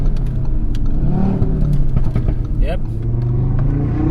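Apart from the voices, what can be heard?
Audi RS3 engine revving during downshifts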